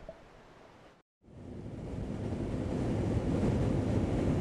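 Outdoor wind on a location shoot in Maluku rushes as a broad, steady roar that cuts out briefly near the start and then returns louder, buffeting the microphone without any talk.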